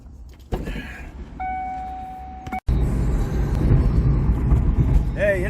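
A car cruising on the interstate, a steady low road and engine rumble that fills the cabin, with a short tone and a brief dropout midway and people talking over it.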